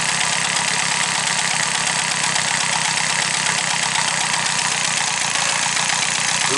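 A Peugeot 102 SP moped engine idles steadily after being restarted, a loud, close, even putter with a fast regular pulse and no talking.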